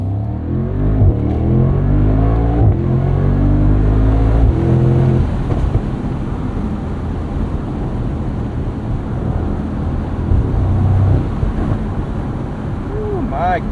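A 2024 Mercedes SL63 AMG twin-turbo V8 roadster revs hard, its pitch climbing in quick successive pulls, then gives way to a loud rush of wind and road noise.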